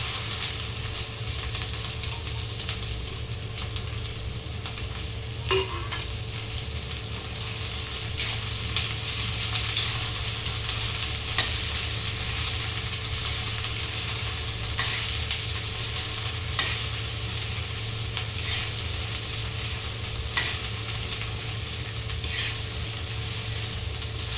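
Okra sizzling and frying with garlic in a pan, a steady loud crackle running throughout with occasional stirring scrapes and clicks, no voices.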